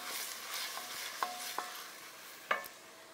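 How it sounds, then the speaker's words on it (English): Garlic and dry oregano being stirred in a pot: a faint, soft sizzle with a few light scrapes and taps of a spoon against the pot. "About a teaspoon or so of oregano. Dry oregano is fine. Give it a stir."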